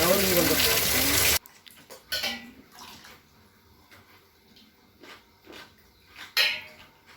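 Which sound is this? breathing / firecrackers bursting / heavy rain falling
heavy rain falling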